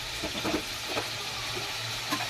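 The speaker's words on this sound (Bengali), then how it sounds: "জল দিয়ে আমি নাড়াচাড়া করে নিচ্ছি" Spice masala simmering with added water in a pan gives a low steady sizzle, broken by soft rhythmic scrapes of stirring close by.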